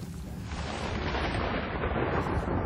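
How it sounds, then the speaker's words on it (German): Continuous deep rumbling thunder with rain noise during a nighttime storm at a psychiatric asylum in the video game Murdered: Soul Suspect, a steady broad roar with no talk. "Bei Gewitter und Blitz und Donner und Regen."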